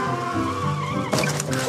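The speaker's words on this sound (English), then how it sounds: "Crash! There's been an accident." A cartoon scooter skids with a squealing tire sound, then crashes in a sudden bright burst near the end, loud and close with no talking.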